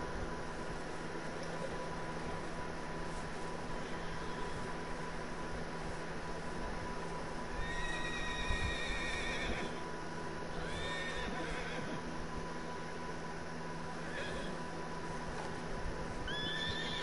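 A horse in Red Dead Redemption 2 whinnies a few times over a steady background hum, the calls short and fairly faint.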